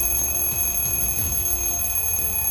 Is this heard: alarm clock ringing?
yes